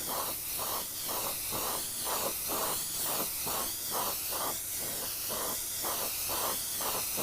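A spray can lays down another coat of paint in a long series of short hissing bursts, close and even in rhythm, with a brief gap between each pass and no talk.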